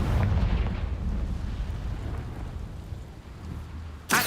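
A Confringo fire blast spell in Hogwarts Legacy explodes with a loud rumbling boom, then decays into a long roaring tail of crackling debris before a sharp new burst at the end.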